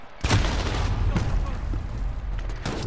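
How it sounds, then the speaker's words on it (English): Frag grenade blast in the Call of Duty: Modern Warfare video game, a sharp loud boom followed by rumbling debris and scattered gunfire-like cracks, with further impacts near the end over game voice chatter. "Frag out."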